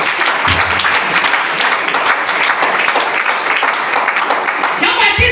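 An audience applauds at a church seminar, a loud, dense wash of clapping filling the space steadily and continuously.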